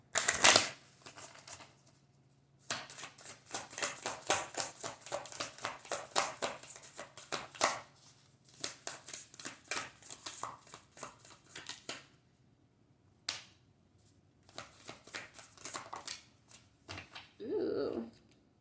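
Tarot cards shuffled by hand in quick crisp riffling bursts, repeating in several runs with short pauses between, close and fairly quiet, with a brief soft voice near the end.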